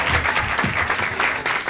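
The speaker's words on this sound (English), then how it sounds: "Everybody clap for them as they go." An improv comedy audience claps steadily as two performers are escorted out, a dense burst of applause filling the room for a short moment, loud and close, with no voices standing out.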